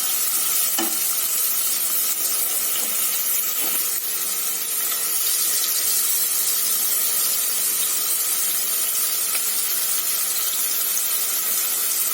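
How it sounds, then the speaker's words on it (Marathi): Onion, garlic, green chilli and salt sizzle in a pan for methi bhaji, a dense, continuous, close frying hiss with a few faint spoon scrapes and no voices. "मस्त आता फ्राय करून घेऊया. कांदा, लसूण, मिरची आणि मीठ."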